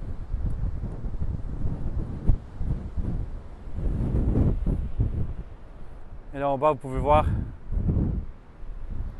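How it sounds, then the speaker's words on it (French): Strong wind buffets the microphone beside the sea, a constant low roar with gusting swells, while someone speaks over it throughout. "Il y a beaucoup de vent."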